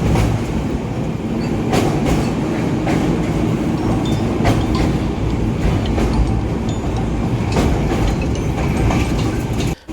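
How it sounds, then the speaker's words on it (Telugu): Amrit Bharat Express rolls on rails toward Nellore station, heard from on board as a loud, steady rumble with rhythmic clickety-clack wheel beats throughout and no talking. "మన ట్రైన్ నెల్లూరు ఔటర్ నుండి స్టేషన్లోకి వెళుతోంది."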